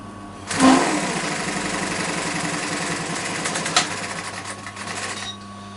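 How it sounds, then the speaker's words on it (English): A sewing machine lock-stitching a half-inch seam on a double-piped chair cushion, whirring loud and steady for about five seconds close up, with a brief clunk near the middle, and no talking. "do your lock stitch"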